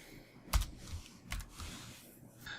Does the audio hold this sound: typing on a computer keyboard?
yes